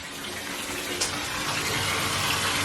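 Tap water runs steadily into a bathtub being filled for a makeshift ice bath, a continuous close rushing splash with no talk.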